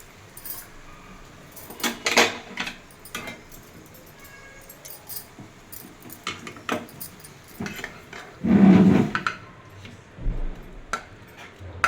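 Cooked raw banana pieces scooped from a kadai onto a plate, with repeated metal spoon scrapes and clinks against the pan and a louder clatter midway, close by with no voices.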